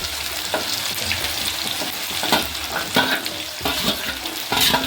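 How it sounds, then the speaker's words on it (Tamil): Garlic fries in hot oil for a shallot kara kuzhambu gravy, a close, loud, continuous sizzle with periodic bursts as it is stirred. "இப்போ பூண்டு போட்டுக்கலாம்."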